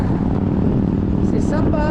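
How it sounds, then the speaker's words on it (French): A small motorcycle engine runs close by with a steady, buzzing drone that holds an even, loud level throughout. "Un beau petit bruit, une belle petite moto."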